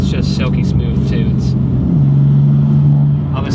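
A BMW M4 tuned to 600 horsepower running through quick gear changes, a steady mid-pitched engine drone that steps up in pitch as it shifts, heard from inside the car with someone talking over it.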